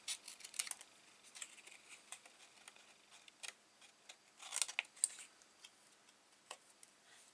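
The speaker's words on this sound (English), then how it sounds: "And then I just need to trim down this corner." Quiet, scattered snips and small ticking cuts as paper corners are trimmed for a mini album, close and faint, with no voices.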